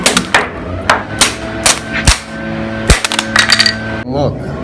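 A hammer striking a Rubik's cube, several sharp metallic-plastic whacks at uneven intervals, loud and close, with ringing tails and a rattle at the end.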